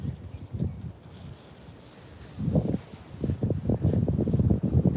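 Cold, dry early-spring wind in Beijing's Olympic Park gusts against the microphone as a low rumbling buffet, quieter at first and then building into stronger, steady gusts.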